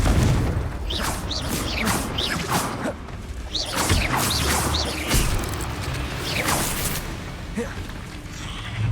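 Fiery spell blasts and booming impacts from Hogwarts Legacy combat, several whooshing bursts and crashes in quick succession over a dense, continuous battle din, with voices briefly heard.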